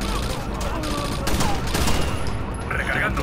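Rifle fire during a firefight in Rainbow Six Vegas, several loud overlapping bursts and shots mixed with other game sounds and faint voices.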